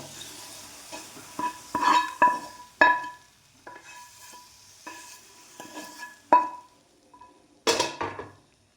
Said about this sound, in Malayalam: അത് നന്നായിട്ട് മിക്സ് ചെയ്തെടുക്കാം